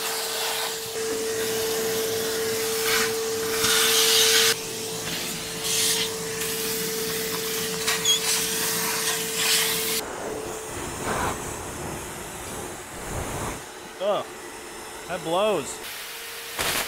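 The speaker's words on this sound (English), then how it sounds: "This is the old vacuum." An old vacuum cleaner with a small, weak hose runs with a steady motor whine and rushing suction, its tone shifting as it moves; a voice speaks briefly near the end.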